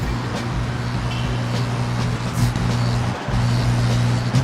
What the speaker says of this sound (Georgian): ნეონის განათების ხმა წარმოიქმნება ტრანსფორმატორით